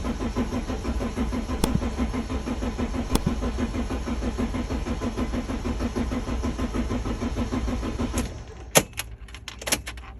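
The diesel engine of a Mercedes Sprinter T1N cranks with its cam sensor unplugged. The starter churns in a fast, steady rhythm for about eight seconds without catching, then stops, leaving a few sharp clicks and knocks.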